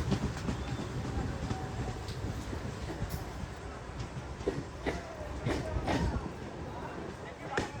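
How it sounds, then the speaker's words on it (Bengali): A passenger train slows into Kasimbazar station in Murshidabad with a steady low rumble, scattered metallic clanks and squeals, and faint background murmur throughout. "বহরমপুর থেকে ছেড়ে আসার পর আমাদের প্রথম স্টপ কাশিমবাজার। দাঁড়াচ্ছে কাশিমবাজার স্টেশনে।"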